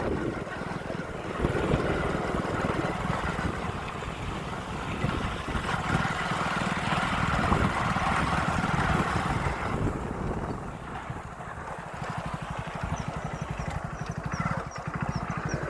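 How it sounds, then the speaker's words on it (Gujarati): A motorbike rides through river water, producing a loud, continuous churning rush of spray and engine rumble mixed with wind buffeting the microphone, with no voices. "જો ખાલી પાણીમાં બાઇક હેડે."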